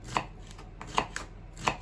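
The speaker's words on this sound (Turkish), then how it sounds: "tohumlarını temizlediğimiz biberimizi de yine piyazlık soğan şeklinde doğrayacağız" A knife chops through a bell pepper on a cutting board, a few crisp, evenly spaced cuts heard up close over a quiet background.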